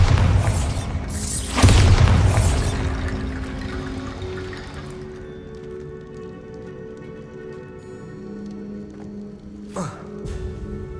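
A Bombarda blasting spell going off in the Hogwarts Legacy game: a loud booming burst early on with a crashing, rumbling tail and debris-like patter, fading into a lingering magical hum, followed later by a smaller sharp impact.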